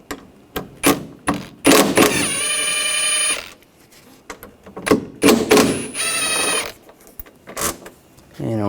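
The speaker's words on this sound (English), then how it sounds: "We're going to use a T45 socket to take these bolts out." T45 socket on a ratchet removing bolts from a 2004-2009 Audi A4 Quattro rear door, with quick rattling clicks of the ratchet in bursts alternating with metallic taps, close and fairly loud.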